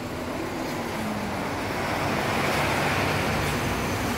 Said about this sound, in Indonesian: Oke, langsung hidup mobilnya, nggak panjang ya karena sudah kita jumper dulu. Nah, mesinnya sudah hidup, sudah normal